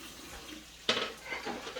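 Dishes being washed under a running kitchen tap while pork chops are being cooked: a steady faint hiss of water with one sharp clatter of crockery partway through, then softer splashing.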